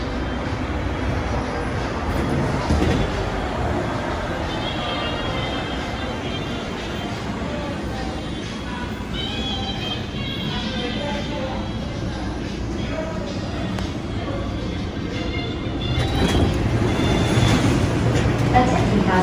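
Continuous rumble and whir of the Plane Train automated people mover at Hartsfield-Jackson Atlanta International Airport, running in night reduced-service mode, steady and moderately loud, with a recorded announcement voice speaking over it.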